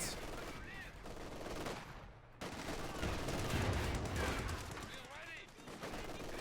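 Machine gun bursts and scattered rifle fire rattle through a Company of Heroes 2 World War II battle, continuous dense gunfire with a brief lull partway, mixed under speech.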